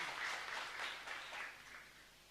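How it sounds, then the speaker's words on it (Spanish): A church congregation applauds the priest during a live Mass in a chapel, a brief, soft wash of scattered clapping that swells and then fades over a couple of seconds with no voices over it. "así es que para él un fuerte aplauso."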